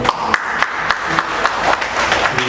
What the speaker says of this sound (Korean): 이렇게 주님께 영광의 박수를 주셨으면 좋겠습니다